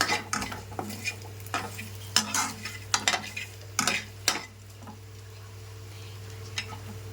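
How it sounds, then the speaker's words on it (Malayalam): A spoon stirs chili powder into sautéed shallots in a pan, giving a series of sharp scraping and clinking strokes over a faint low sizzle, then falling quiet. "ഇനി നമ്മൾ കുറച്ച് മുളക് പൊടി ഇട്ട് കൊടുക്കുക. ഇത് നല്ല രീതിയിലാണ് ഇളക്കി കൊടുക്കുക."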